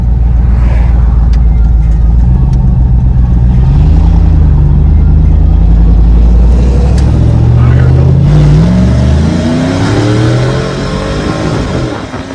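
A cammed single-cab Chevrolet Silverado pickup makes a pull down a straight road, its engine droning loud and close with a lumpy idle character and rising revs through the gears, with a voice speaking over it.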